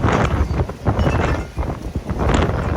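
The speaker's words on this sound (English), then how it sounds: "It's a little windy for my outdoor exercise" Gusty wind buffets the microphone outdoors in steady low roaring bursts, rising and falling without letup and with no talking.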